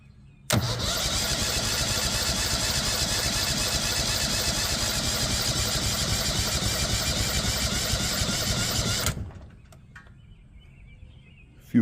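A 23 horsepower Vanguard mud motor engine runs loud and steady for about nine seconds, a dense continuous roar with no voices, then cuts off abruptly into quiet.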